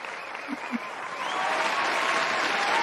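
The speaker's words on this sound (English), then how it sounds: "this applause sound like it got Tourette's" Stuttering applause sound effect: a couple of soft thumps, then a steady, fairly loud wash of clapping that keeps going to the end with no voices over it.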